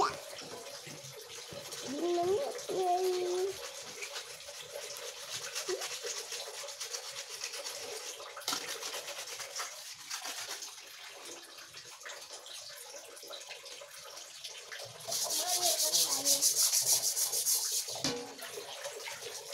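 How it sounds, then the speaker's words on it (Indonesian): Drinking glasses and a noodle-boiling pot are washed by hand in a home: continuous scrubbing and rubbing with running water, swelling into a louder splashy rush near the end, with no speech. "Cuma cuci gelas sih sama tempat rebus mie"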